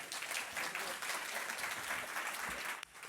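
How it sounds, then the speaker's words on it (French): An audience applauds chef Michel Troisgros at a culinary event, with sustained, fairly close clapping holding steady for about three seconds before tapering slightly at the end. "Est-ce qu'on peut applaudir Michel Troisgros?"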